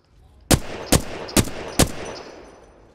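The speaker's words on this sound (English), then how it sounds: "Somewhere I hear your gunfire." Four evenly spaced gunshots from a weapon in the video game Apex Legends, sharp and punchy with short decaying tails, heard at moderate distance with no talking over them.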